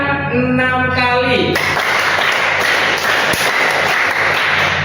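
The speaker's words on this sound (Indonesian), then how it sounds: "Tepuk tangan 6 kali." Students in a classroom clap their hands together in a broadband burst of claps that continues for several seconds after a short stretch of voiced sound, loud and close.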